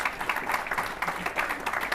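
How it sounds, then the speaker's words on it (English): An audience at the 2023 Curtin University sports awards ceremony claps in a steady, moderately loud round of applause lasting a couple of seconds. "Round of applause, thank you very much."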